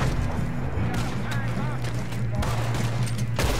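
Gunfire crackles through a shootout in Red Dead Redemption 2, scattered shots over a steady low rumble and game voices talking throughout.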